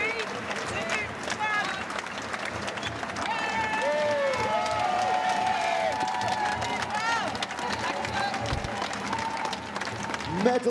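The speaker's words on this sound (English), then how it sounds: "Give yourselves a cheer" A crowd at the Invictus Games sports event cheers and applauds for the competitors, a broad, sustained roar of clapping and shouting. Bright music and a few voices come through above the crowd noise, which ends with a sharp thump.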